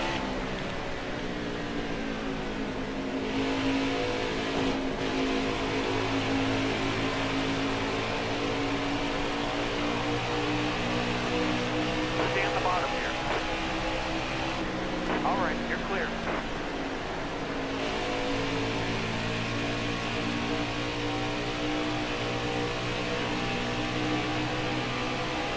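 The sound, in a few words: race car engines in NASCAR Heat 4 video game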